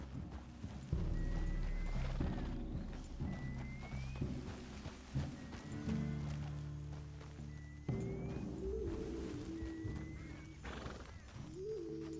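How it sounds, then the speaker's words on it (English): Steady clip-clop of horse hooves with an occasional whinny in Red Dead Redemption 2, set against a layered game soundtrack of music and ambient effects. "Please, control that horse."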